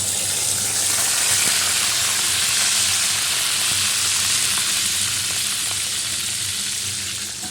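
Green chillies go into a hot pan with chicken pieces fried in a cornflour and egg batter, giving a loud, steady, close sizzle that runs without a break.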